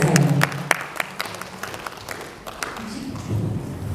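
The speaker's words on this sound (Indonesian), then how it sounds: "Sekali lagi tepuk tangan untuk komentar luar biasa." Applause from an audience at an Indonesian parenting talk, a short burst of clapping that fades into scattered claps and room noise.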